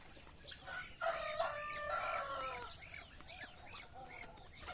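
Laying hens are let out of their coop onto a free-range yard in the countryside. Clucking and crowing-like calls rise over a steady low background, moderately close.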